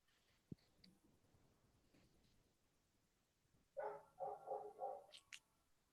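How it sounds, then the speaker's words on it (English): Dog barking outdoors at a distance, a faint, quiet scene broken by a cluster of four or five sharp barks in quick succession near the end, with a soft click earlier. "There's like a dog barking outside, so hopefully no one can hear that."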